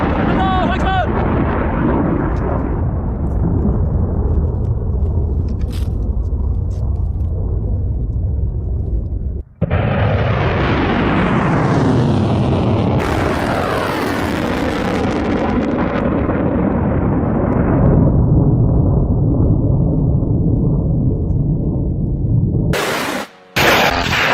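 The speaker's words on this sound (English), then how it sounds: "So that is footage released by Iran of the third wave of their attack." Iranian missile attack explosions, a long series of loud, rumbling booms and roaring blasts with heavy wind buffeting, distant but overwhelming, then a sharp break and a renewed roar.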